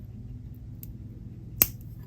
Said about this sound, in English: Let me cut off the excess beading wire.